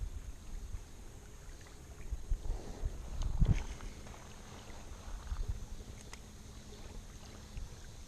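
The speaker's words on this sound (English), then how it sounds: "I hear a boat coming back up the channel here." A distant motorboat drones steadily as it approaches up a channel on Fellows Lake, Springfield, Missouri, with light wind rustling against the microphone.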